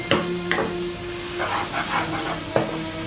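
Sautéing in a wok in leftover meat drippings for spaghetti bolognese, a close steady sizzle broken by a few sharp scrapes and clinks of a spatula, with no talk.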